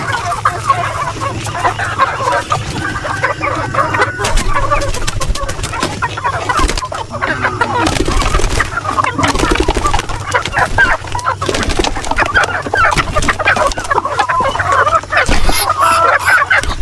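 Native chickens on a farm clucking and squawking agitatedly: a dense, continuous chorus of overlapping clucks and cackles, loud and close throughout.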